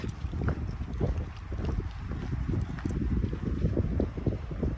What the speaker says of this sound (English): Okay, so the wind is back.